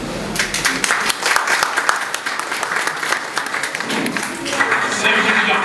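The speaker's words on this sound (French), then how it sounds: "Je vous demande de les applaudir." Sustained audience applause at a student integration day held by a university club in Keur Massar, with dense clapping throughout and a few voices mixed in.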